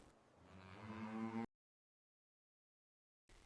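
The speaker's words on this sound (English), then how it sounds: "the lowing of well-fed cattle mixes with birdsong across the sunlit plains" Well-fed cattle low on sunlit arid plains at Anna Creek Station in outback Australia, a single long, loud, close moo lasting about a second and a half, followed by silence.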